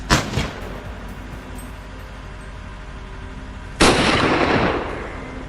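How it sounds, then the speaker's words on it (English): A rifle gunshot during a night wild boar hunt: a loud single crack with a rolling tail, preceded by a fainter distant report and quiet outdoor ambience. "I immediately took position, raised my rifle. The shot rang out."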